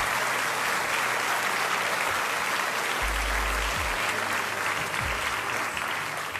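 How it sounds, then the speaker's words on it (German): Studio audience at a German late-night comedy show giving steady, full applause that holds for several seconds, with a low hum underneath. "Kleiner Applaus für Daniel vielleicht"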